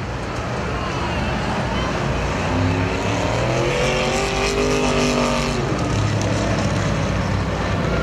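Race cars in a figure 8 trailer race at Perris Auto Speedway, a continuous roar of engines with rising and falling tones as cars pass, under a track announcer's commentary.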